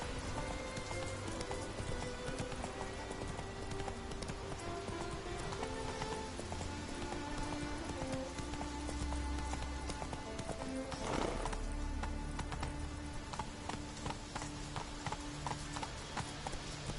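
Roach the horse gallops in a video game, a quick, continuous run of hoof clops at moderate distance, mixed with a rain-like wash, game music and a brief burst of noise partway through.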